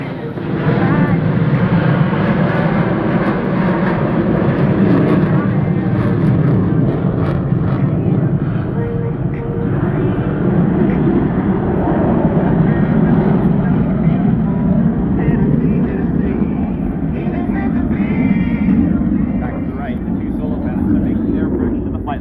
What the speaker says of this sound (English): Ladies and gentlemen, the Blue Angel barrel roll brake.